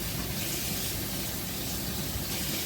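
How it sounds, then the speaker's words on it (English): Cold water running steadily from a kitchen tap over shrimp being thawed, a constant close hiss and splash with no pauses. "I run cold water on my shrimp."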